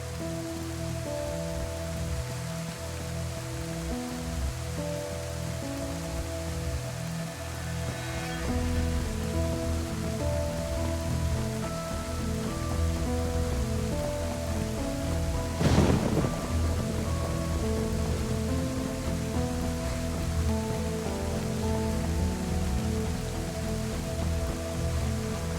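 Steady rain patters and hisses in the video game DayZ throughout, with a low rumble of thunder rolling underneath and one sharper crack partway through, no voices present.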